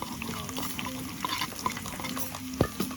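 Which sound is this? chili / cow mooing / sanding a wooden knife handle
chili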